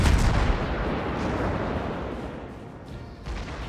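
A booming burst of heavy naval gunfire from the Bogatyr cruiser in World of Warships opens loud and rolls into a broad, roaring rumble that slowly fades, with a fresh thump near the end.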